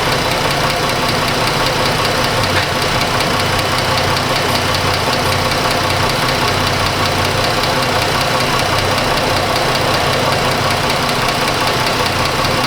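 Chrysler 200 engine idling with a heavy knocking, rattling note, running steadily and close by. It has an overheating problem, and there is no talk over the sound.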